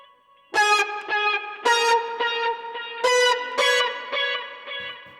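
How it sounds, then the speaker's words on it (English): Electric guitar through a Line 6 POD HD Pro playing a synth-like tone with the Tron Up filter effect: a series of plucked notes, each with a bright wah-like swell on the attack, loud and close with no talking. "So the Tron up actually puts this kind of wah emphasis on the pick attack."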